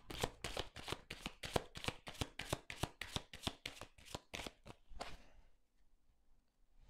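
Tarot cards being shuffled, a rapid run of about sixteen crisp riffling bursts close up, then stopping abruptly with near silence after; no talking.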